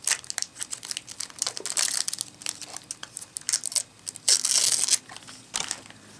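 Plastic wrapping is pulled and peeled off a Roku 2 remote, making close, irregular crinkling and crackling bursts that grow louder near the end.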